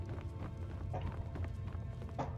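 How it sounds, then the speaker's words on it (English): Horse hooves in a video game clop in a steady rhythm, faint and slightly distant, with no voices. "Horse up there."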